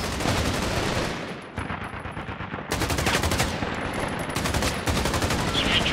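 Sustained automatic gunfire from bots in the shooter game Caliber, rapid dense bursts filling nearly the whole stretch with brief gaps, loud and close.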